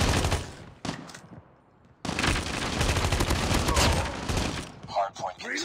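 Rapid gunfire bursts from the video game Call of Duty Mobile crackle loudly in a dense volley, break off briefly, then resume in sustained automatic fire, with short in-game sounds near the end.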